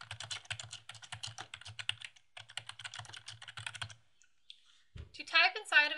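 Rapid typing on a computer keyboard, a steady run of close, crisp key clicks in two bursts separated by a short pause, then a brief moment of near silence before a voice begins speaking.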